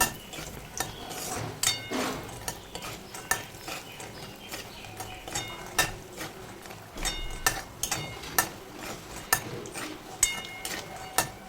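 Lentil dumplings (bori) fry in white oil with a soft sizzle, broken by repeated sharp clacks of a utensil stirring against the pan at an uneven rhythm.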